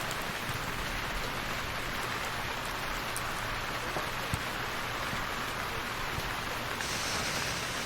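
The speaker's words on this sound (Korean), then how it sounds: "비가 오고 있습니다" Rain falls steadily at a campsite in Ganghwa during a heavy downpour, a dense, even hiss of drops on surfaces that continues without a break.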